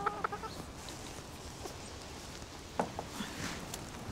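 Chickens cluck softly at a distance in an outdoor setting, with a few sharper clucks standing out over a faint background.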